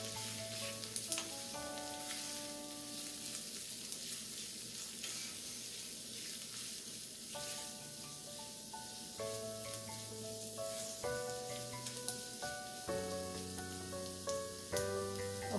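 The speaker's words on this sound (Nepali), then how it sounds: "चलाइदिउँ" Turmeric and Kashmiri red chili powder stirred into hot oil in a pan for a green peas and egg fry, with a soft steady sizzle and light scraping under faint tonal background sounds.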